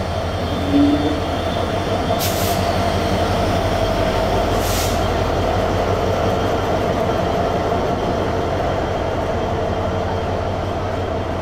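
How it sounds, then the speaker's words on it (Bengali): The Paryatak Express arrives from Dhaka, a steady rumbling roll of rail cars with two short bursts of hiss or squeal early on, continuous and fairly close, with no talking. "আসলো পর্যটক এক্সপ্রেস, এই যে ঢাকা থেকে 3022 লোক নিয়ে"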